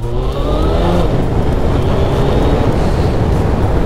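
A car drives off, its engine rising steadily in pitch as it accelerates, loud and close inside a continuous rumble of road noise.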